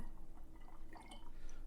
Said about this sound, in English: So pour it into the bottle.